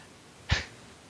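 A single short, sharp human sneeze bursts out close by, standing alone against a quiet room background.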